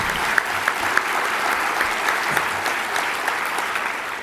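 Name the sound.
audience applause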